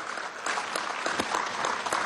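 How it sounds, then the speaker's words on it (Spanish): Applause at a business federation's annual assembly for an executive vice president, a steady patter of many hands with a few sharper claps standing out, moderately distant and without speech. "pido para ella un fuerte aplauso de reconocimiento"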